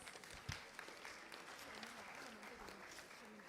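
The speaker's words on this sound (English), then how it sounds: "applause." A round of applause from a seated audience at a campus placement event, steady clapping that stays fairly faint and distant throughout.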